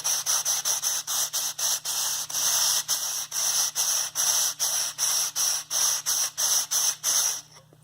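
A cut end of a 46 mm carbon fiber tube is rubbed back and forth on sandpaper in steady, rapid strokes, a loud, close, rhythmic abrasive scraping with brief gaps between strokes, no talking.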